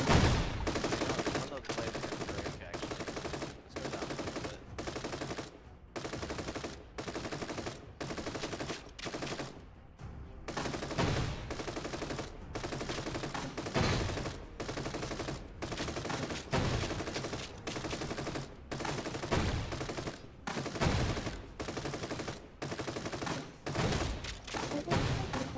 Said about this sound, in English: No, not over their gunshots.